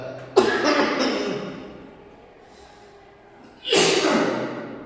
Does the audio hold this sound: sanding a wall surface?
no